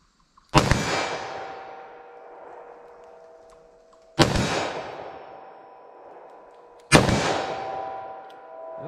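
Three sharp, loud gunshots from a .327 Federal Magnum short-barrel handgun at an outdoor range, spaced a few seconds apart, each with a ringing decaying tail.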